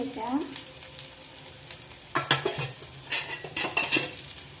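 Spices are tempered in hot oil for a bitter gourd fry: a bright sizzle and crackle mixed with repeated metal clinks of a spoon stirring in the pan, close and busy in short bursts.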